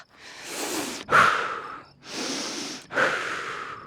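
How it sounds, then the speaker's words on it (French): A person demonstrates breathing with two slow, deep breath cycles close to the mic, each a long airy inhale followed by a rushing exhale, alone with no talk. "vous imaginez toutes les respirations qu'on fait? Écoutez ça."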